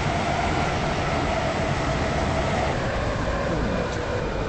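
A Class 707 train runs in the SCR game, a steady rumbling rush of rolling wheels and motor noise at constant loudness, heard close from the cab with no pauses.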